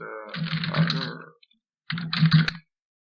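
Someone types a name on a computer keyboard in two short bursts of rapid, close clicking separated by a brief pause, with no talking.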